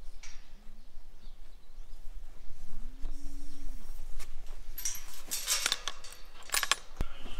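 A single drawn-out cow moo sounds at moderate distance on a dairy farm during a herd test, followed by metallic clinks and rattling of equipment nearby.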